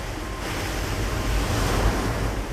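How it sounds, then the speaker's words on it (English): Surging tsunami waves peaking at 40 meters against Japanese coastal fortifications; a steady, loud roar of rushing water and wind with no break. "But the tsunami surging towards them is a monster, peaking at 40 meters."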